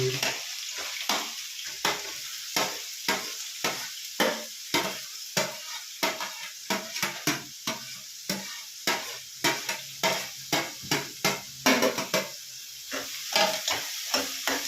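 Onions stirred and fried in a pan, a spoon scraping through them in a steady run of sharp, repeated strokes over a constant hiss of sizzling oil, close and clear with no talk.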